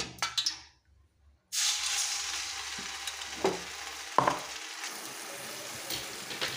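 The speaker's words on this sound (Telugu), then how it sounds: "కొబ్బరి, అల్లం వెల్లుల్లి పేస్ట్ అంతా వేసి ఇలా మగ్గించుకుంటున్నానండి." Coconut paste and ginger-garlic paste sautéing in hot oil give a steady close sizzle after a brief quiet gap, broken by a few sharp stirring scrapes and clinks.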